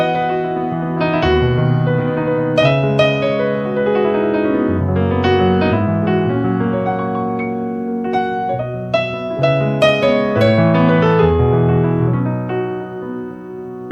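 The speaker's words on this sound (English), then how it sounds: "Your typical worship piano sound might sound something like this." A worship-style piano patch plays slow, sustained chords with a soft low bass and ringing upper notes, warm and reverberant, close and alone with no voices.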